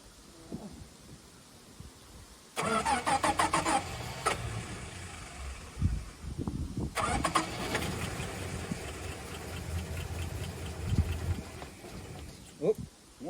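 A VK Dodge ute with a Pacer engine cranks and tries to start on freshly filled fuel, two loud bursts of rough churning engine noise with sputtering, briefly catching, separated by a short pause.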